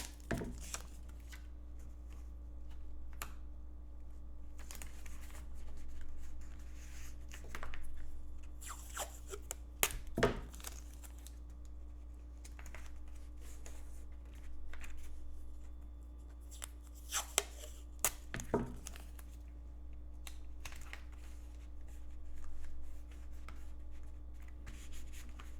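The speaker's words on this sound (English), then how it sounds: "I'm going to tape down my leather. I'm using blue painter's tape." Blue painter's tape is pulled and pressed down around a piece of leather on a craft cutting mat. Sparse short tears and rustles come and go over a steady low background hum, with long quiet gaps between them.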